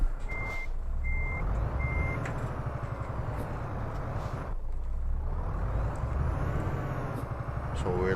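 A truck in Euro Truck Simulator 2 gives off repeated high reversing beeps while backing into a parking spot, beeping in short regular pulses over a steady engine rumble, with a hiss of air brakes later.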